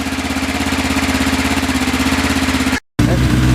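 Loud motorcycle engines idling close by in a garage with a steady throbbing pulse, cut by a brief gap before the rumble resumes.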